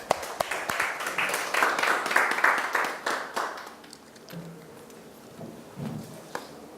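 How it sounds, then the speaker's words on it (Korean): Light audience applause welcoming a lecturer to a university special lecture, scattered claps building briefly then thinning out and fading to quiet. "박수로 맞이하겠습니다"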